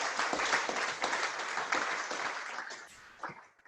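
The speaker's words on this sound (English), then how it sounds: "let's clap for the NOG team" Audience at an AfNOG internet networking conference day clapping for a network operators group team, a dense patter of many hands at moderate level that thins and fades toward the end.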